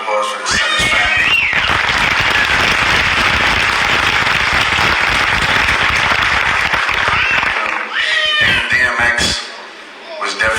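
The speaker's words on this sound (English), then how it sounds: "Round of applause for the Simmons family." A large congregation at a funeral service for Earl Simmons applauds the Simmons family. The loud, continuous clapping is mixed with shouts and high cheers, then fades near the end as voices break through.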